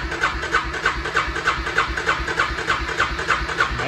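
A fuel-injected Suzuki KingQuad 400 ATV idles just after a cold start in neutral, with a steady, rhythmic chugging pulse at close range and no talking.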